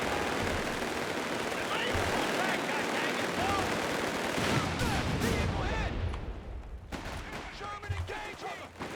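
Heavy machine gun fire and battle noise in the war strategy game Company of Heroes 3, dense rattling bursts and booms layered over a continuous din, with voices talking over it.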